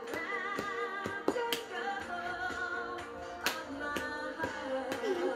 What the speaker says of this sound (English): chest, double chest clap.